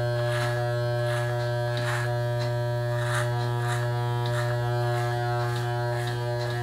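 Electric hair clippers buzz steadily and close up while cutting hair back down for a bald fade, a constant motor hum with repeated brief strokes of the blades through hair and no talking.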